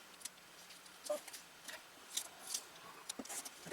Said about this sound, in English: I can come back and cut it with my scissors